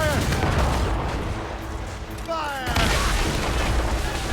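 Ship cannons fire in a naval ambush in Assassin's Creed Rogue, deep rolling booms and rumbling blasts layered with battle noise, with voices shouting over the din.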